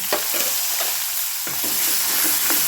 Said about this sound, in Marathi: मिरची छान तेलात भाजायची आहे, म्हणजे कच्चेपणा दूर होईपर्यंत.